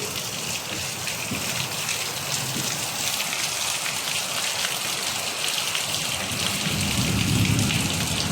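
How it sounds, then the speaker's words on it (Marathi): Heavy monsoon rain pours onto tiled roofs in Konkan as a dense, unbroken hiss of drops, with a faint low rumble swelling near the end and no one speaking. "आणि एवढा पाऊस लागतोय ना"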